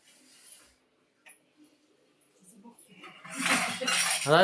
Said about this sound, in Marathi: दादा मदत करतोय आईला भांडी ठेवायला सकाळ सकाळ